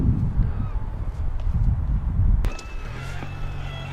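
Road traffic passing close by on a Scottish roadside, a rumbling vehicle pass building through the first half and then cutting off sharply, followed by a quieter engine hum and a faint honk-like tone.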